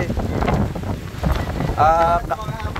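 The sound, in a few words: wind by the sea after typhoon Uwan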